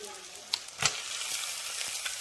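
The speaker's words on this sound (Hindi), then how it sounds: "यहाँ पे प्याज हो चुका है लाल, तो मैं डाल दे रही हूँ इसमें फटाफट चिकन" Raw chicken tipped into a pan of onions already fried red, a steady loud sizzle with a few clatters and stirring knocks, no voices over it.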